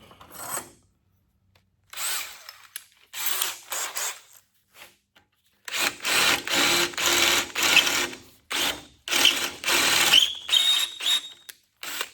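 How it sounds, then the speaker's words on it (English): A power drill with a small bit bores a hole during work on a 1949–51 Mercury, in loud whirring bursts of a few seconds each separated by brief pauses, with no voices. "Always start with a small drill bit first."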